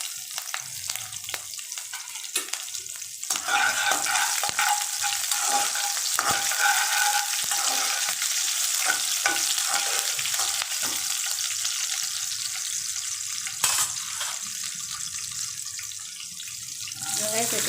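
Curry leaves and green chilies fry in hot oil for rava upma, a continuous bright sizzle with occasional stirring clicks, steady and close throughout.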